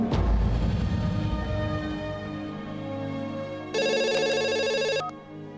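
A telephone rings with one sustained electronic burst of ringing that stands out loudly against a quieter background of low sounds.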